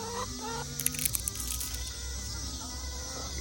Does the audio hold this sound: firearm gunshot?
no